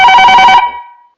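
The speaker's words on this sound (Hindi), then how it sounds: "तो हम फोन लगा रहे हैं सरोज कुमार जी को।" A telephone ringback tone sounds as a call is placed, one loud electronic ring with a bright buzzing tone that stops abruptly and leaves a short fading echo, with no voices.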